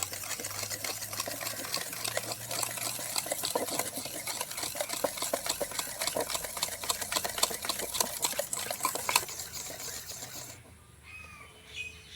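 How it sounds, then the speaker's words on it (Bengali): Batter made with powdered sugar for a palm cake gets beaten steadily in a bowl, a fast continuous whisking scrape that runs loud for about ten seconds and then stops, leaving only faint background noise. "চিনি গুঁড়ো দিয়ে 10 মিনিট ভালো করে ফেটিয়ে নেব।"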